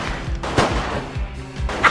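Gunfire in the video game GTA Vice City, four sharp shots in a steady rhythm roughly every half second, loud and close, with game ambience between them.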